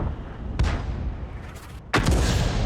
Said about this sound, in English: And he's about to get a taste of the artillery himself, too.